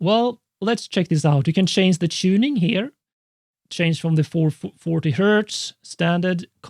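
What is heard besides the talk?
None of the usual background noises is heard.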